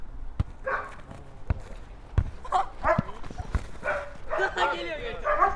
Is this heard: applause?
no